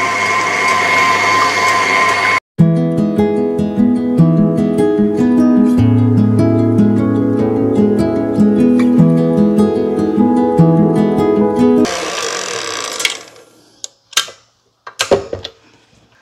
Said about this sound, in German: Und jetzt gehen wir zu unserer Küchenmaschine